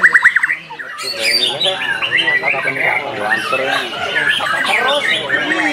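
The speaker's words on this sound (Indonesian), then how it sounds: "Saya kesini bawa burung murai batu dengan nama Panji Laras" A white-rumped shama, an F2 captive-bred bird, delivers loud, rapid, varied chattering song phrases almost continuously, close to the listener, with a brief pause near the start.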